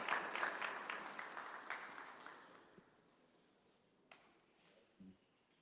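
An audience at a South Florida athletic awards ceremony applauds an award recipient, dense clapping that dies away within a few seconds and leaves only a few scattered late claps in a quiet hall.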